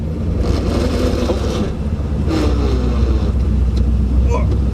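An LS-swapped Mercedes 380SL R107 roadster, top down, drives along with a steady close engine drone and road noise throughout, a person talking over it.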